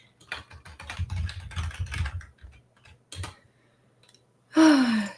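Quick bursts of computer keyboard typing, close and moderately loud, in an irregular rhythm that stops and starts, ending with a short sigh-like breath.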